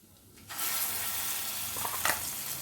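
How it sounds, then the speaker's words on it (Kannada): Ground small-onion paste is added to hot oil tempered with cumin for an onion thokku, bursting into a loud, close, continuous sizzle after a quiet half-second, with a faint scrape of stirring. "ಇದನ್ನು ಚೆನ್ನಾಗಿ ಎಣ್ಣೆಯಲ್ಲಿ ಒಗ್ಗರಣೆಯಲ್ಲಿ ಚೆನ್ನಾಗಿ ಫ್ರೈ ಮಾಡೋಣ"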